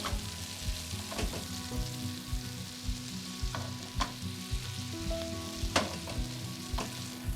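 Pork chops frying in oil in a pan for Sunday dinner, a steady close sizzle with crackling and occasional sharper pops and scraping clinks, no talking.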